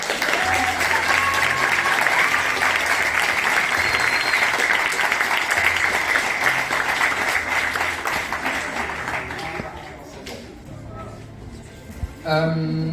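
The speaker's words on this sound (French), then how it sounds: "Je veux vraiment un tonnerre d'applaudissements pour eux parce que c'était incroyable." Loud, sustained applause from the audience at an eloquence contest carries on for around ten seconds, with low music beneath it, then thins out into scattered claps and room noise.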